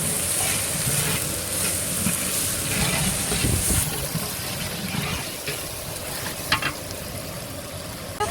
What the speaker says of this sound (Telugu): పచ్చి స్మెల్ పోయే వరకు బాగా ఫ్రై చేసుకోవాలి